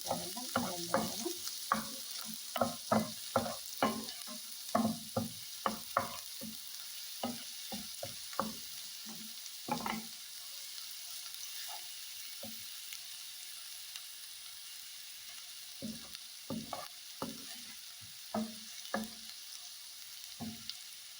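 Onions frying in a pan for a tortilla sandwich, with a steady soft sizzle under frequent clattering stirs and scrapes of the utensil against the pan, close and fairly quiet with brief pauses.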